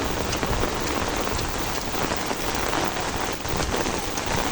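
Heavy, steady rain pouring down without a break during a flooding downpour, a dense continuous hiss of drops hitting surfaces close by, with no voices.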